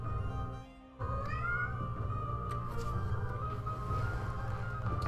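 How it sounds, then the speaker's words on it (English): A pet cat lets out a drawn-out meow that rises in pitch, clear and close, over a steady low background hum. "The talking cat is here."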